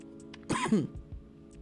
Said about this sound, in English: Sorry, I still have a little bit of a leftover cough.